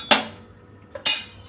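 An egg being cracked for a Mughlai paratha, two sharp, close taps about a second apart, each a quick crack with a brief ringing tail.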